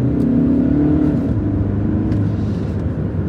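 A 2017/18 Skoda Superb L&K 2.0 TDI with DSG gearbox and 4x4 pulls away from a standstill, its diesel engine droning and rising in pitch as it accelerates, heard loud and steady from inside the car.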